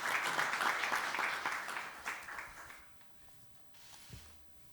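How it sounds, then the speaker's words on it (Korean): Applause welcoming attendees at a presidential senior secretaries' meeting in a conference room, a burst of many hands clapping that fades out after about three seconds, leaving quiet room tone and a faint thump. "자, 박수로 환영해 주시기 바랍니다."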